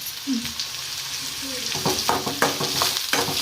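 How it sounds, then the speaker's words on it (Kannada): Garlic, ginger and green chillies fry in a hot pan, a steady sizzle with stirring scrapes growing busier in the second half; no voices. "ಇದನ್ನು ಚಲೋ ಫ್ರೈ ಮಾಡ್ಕೊತೇನೆ"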